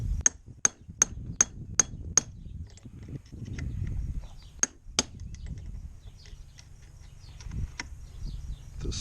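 A hammer taps a small chisel during a trailer repair: six quick, sharp metallic strikes in a steady rhythm, then scattered lighter taps over a low background rumble.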